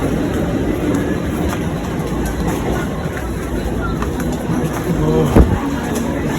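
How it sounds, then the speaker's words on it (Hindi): A commuter train pulls into Mahim station in Mumbai, a steady loud rumble of wheels and rail noise filling the platform, with a brief heavier clatter near the end and faint birds in the background. "तो गाइस ट्रेन आ गई, अब इस ट्रेन से जाएंगे ग्रैंड रोड।"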